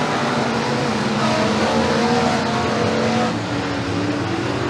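Pure stock race cars roar down the back straightaway at McKean County Raceway, a dense, steady engine drone that swells and fades slightly as the pack passes, loud and continuous with no talk.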